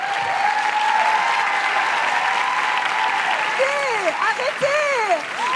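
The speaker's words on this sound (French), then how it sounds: "déteste me faire applaudir, arrêtez." An audience at a theatrical show against fascism applauds loudly and steadily, while a performer's voice rises over the clapping toward the end.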